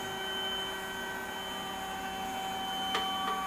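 The platen clamp of an Epson 1430 DTG printer slides back in, a steady motorized whir with faint tonal hums, ending in two short clicks near the close, with no talking.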